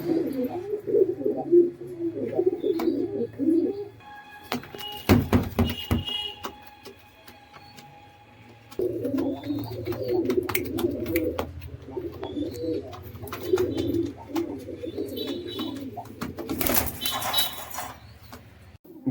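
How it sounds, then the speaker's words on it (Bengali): Giribaz pigeons, an old-generation pair, cooing close by: repeated low, throaty rolling coos in bursts, interrupted by sharp clattering knocks and handling noise in the middle and near the end. "পায়রার কোয়ালিটি অপূর্ব অসাধারণ একজোড়া পায়রা রয়েছে"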